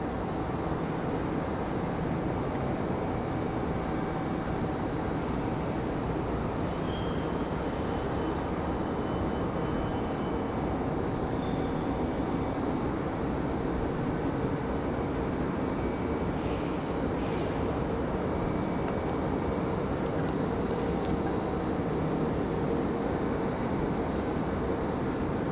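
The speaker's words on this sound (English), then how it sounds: "Speaking of Breeze, there's our beautiful" A Breeze Airways Airbus A220 jet at Raleigh-Durham airport, a steady distant engine rumble holding at an even level for the whole stretch, with a few brief faint high clicks and no speech.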